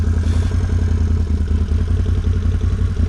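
A 2021 Can-Am Renegade XMR 1000 ATV engine runs at a strong, steady roar, loud and close with a rough mechanical throb and no voices.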